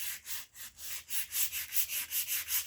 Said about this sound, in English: Grab some heavy duties, some sandpaper now. Just to get off some of this.